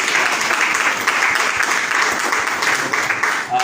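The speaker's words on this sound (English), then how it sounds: "A laudable applause to" An audience applauds at an evening sales and marketing talk, dense steady clapping that fills the whole moment and stays loud and close before tapering slightly at the end.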